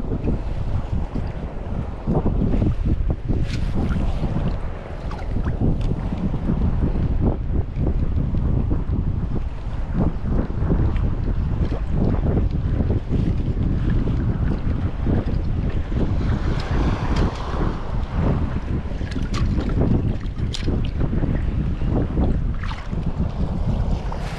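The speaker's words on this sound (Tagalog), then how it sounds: "Lakas ng hangin." Strong wind buffets the microphone on a fishing boat at sea off Calatagan, Batangas, a continuous loud roar with gusty surges and water splashing throughout, with no voices.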